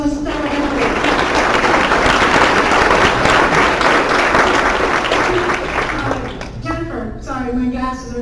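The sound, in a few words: workshop audience round of applause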